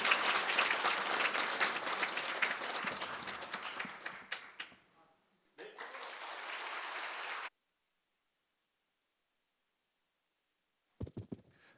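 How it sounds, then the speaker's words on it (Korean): An audience claps warmly to welcome a firefighter CPR instructor at an event, loud sustained applause that fades out, then a second short burst before silence and a few brief taps. "다 같이 뜨거운 박수로 우리 환영하겠습니다."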